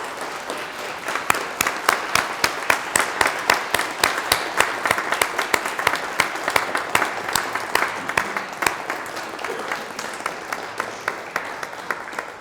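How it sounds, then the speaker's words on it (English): A graduation ceremony audience claps in sustained applause, with dense, steady clapping from a large crowd throughout. "give them a big round of applause to thank them for your support?"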